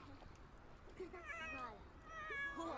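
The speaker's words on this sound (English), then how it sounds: "Cat." A house cat meows a couple of times amid the Sims 4 game sounds, with a voice talking over it.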